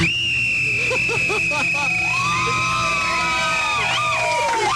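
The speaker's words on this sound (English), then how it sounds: "You may blow your whistle." A shrill whistle sounds over a loud, cheering crowd, with whoops and shouts around it.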